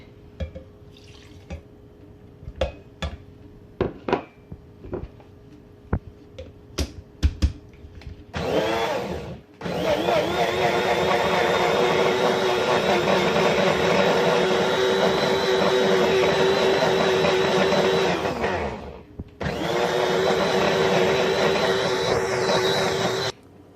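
Fresh mint leaves whirred with half a glass of milk in a blender: scattered clicks and taps, then a loud steady motor roar in two long runs separated by a brief stop.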